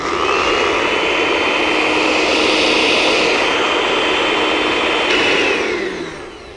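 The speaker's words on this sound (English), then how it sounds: "we let this blend." A blender whirs steadily through a kale smoothie with vanilla soy milk, a loud continuous motor drone that holds for about six seconds and then begins to wind down, with no voices.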